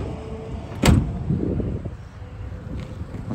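The tailgate storage compartment on a 2023 Chevrolet Colorado Z71 pickup opening with a sharp latch click and a short thump, followed by quieter handling noise close by.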